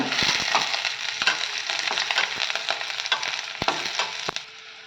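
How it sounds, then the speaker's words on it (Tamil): Sliced onion and green chillies fry in a pan for a Tamil poriyal: a steady, close sizzle fills the whole clip, broken by sharp clicks and scrapes of a spoon against the pan. "இப்போ வெங்காயம் வதங்கிடுச்சு பச்சை மிளகா போட்டுக்கலாம்"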